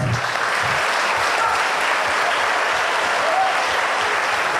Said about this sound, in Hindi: अमन और श्रेयस, उनके लिए एक बार और ताली हो जाए